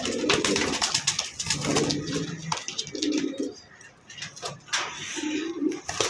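Pigeons coo at a pigeon farm in repeated low, throaty bursts, several birds close by overlapping one another against a busy background.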